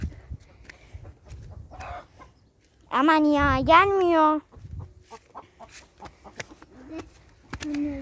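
A hen that is laying eggs gives a loud, drawn-out cackle lasting over a second, with softer clucks and a few distant voices around it.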